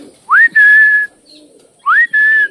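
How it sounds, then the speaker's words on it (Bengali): A pet cockatiel gives two soft, clear whistles, each a rising slide into a sustained steady note, close by and spaced apart with quiet between them. "সুগার মিমি মিমি কি করে বলো তো, হালকা হালকা করে সিটি বাজায়।"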